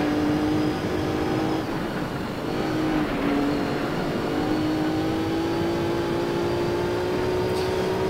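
A racing car in Gran Turismo 3 A-Spec holds a loud, steady engine drone that climbs slowly in pitch as it accelerates through a lap, heard alone at close range.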